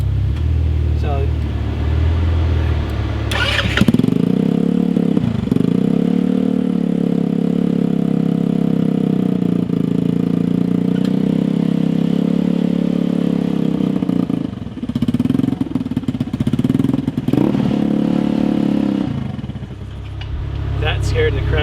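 A Metruck scooter's small engine idles steadily after a choke start, a constant close mid-pitched rumble with a brief rev near the start and slight dips in the middle, with voices talking over it.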